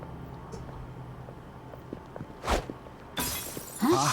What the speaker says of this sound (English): sounded like broken glass